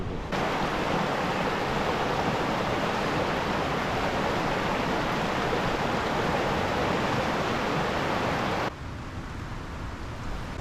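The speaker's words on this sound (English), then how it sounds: "It's like a little waterfall section over here. More like river rapids" River rapids tumbling over a small waterfall section in the alpine Snowy region of New South Wales, a loud, continuous rushing roar of water heard up close, dropping slightly in level near the end.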